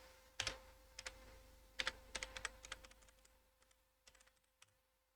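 Computer keyboard typing in short irregular bursts of crisp, close keystrokes, some clustered quickly and others spaced apart, with a faint steady hum beneath and no talking.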